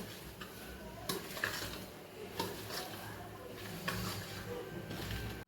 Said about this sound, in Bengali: এই 1 চামচের লবণ নিয়ে নিলাম আমি, এটাকে ভালো করে মিশিয়ে নেব